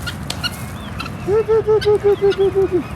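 A goose gives a rapid series of about ten loud nasal honks in even rhythm, close by, over a low background murmur of other fowl.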